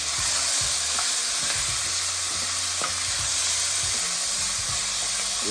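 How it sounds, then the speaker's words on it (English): Ingredients for stewed pig tails being stirred in a hot pot, a steady sizzling hiss with repeated scraping strokes of the spoon running through the whole stretch, close and fairly loud, no voices. "And then you just want to stir it up."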